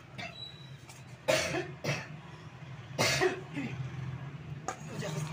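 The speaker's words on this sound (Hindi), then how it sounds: "खुद को बहुत खांसी हो रही है" A woman with a heavy cold coughs repeatedly, giving several harsh, close bursts spaced a second or two apart, with a throat-clearing rasp between them in a quiet indoor room.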